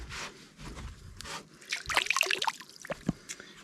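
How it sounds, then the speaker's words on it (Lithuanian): Water trickling and dribbling in during an evening lakeside outing at Lake Alaušas, a soft, uneven liquid patter with scattered drips, fairly faint and close. "Man kažkur vanduo jau pribėga"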